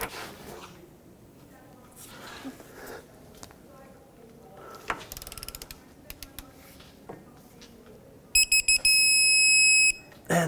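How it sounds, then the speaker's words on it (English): A torque wrench clicks and ratchets in short bursts while a control arm bolt on a 2007-2009 Saturn Aura is tightened, then a loud electronic beeping alert sounds near the end. "I have my torque wrench set to degrees, but again, a quarter of a turn."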